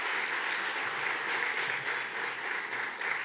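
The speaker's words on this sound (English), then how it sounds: "So I need you to do more than just applaud her." An audience at a business breakfast with the NYC schools chancellor gives a steady, dense round of applause that stays even and fairly distant throughout, with no speech.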